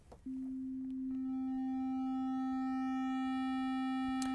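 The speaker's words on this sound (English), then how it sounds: "I'm just going to push this sine wave loud enough that it starts distorting." A steady pure sine tone starts abruptly and holds, growing harsh and buzzy as clipping distortion adds overtones, sustained and loud with nothing else.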